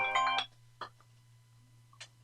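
A phone ringtone plays a brief melodic burst at the start and then cuts off, leaving a low steady hum and a couple of faint clicks.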